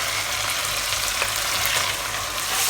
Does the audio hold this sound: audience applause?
no